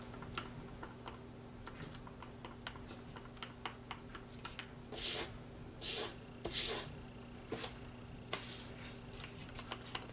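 Irregular bursts of scraping and clicking as a stick stirs Famowood Glaze Coat epoxy resin against the walls of a cup, over a steady low hum.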